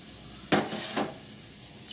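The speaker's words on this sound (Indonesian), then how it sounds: "Kemudian kita aduk ya hingga benar-benar larut daun tembakaunya." Tobacco leaves being stirred into a pot of boiling water to make a plant-based pesticide, giving two short scraping, sloshing strokes with a faint clink at the end.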